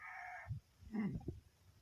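A white-eared rooster gives a short, fairly quiet call with a few rough clucking notes, after a brief unrelated tone.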